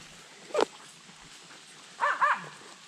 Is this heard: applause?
no